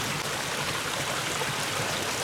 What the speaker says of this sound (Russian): Можем видеть, как вода, которая бьет из-под земли, пробивает себе в снегу дорожку.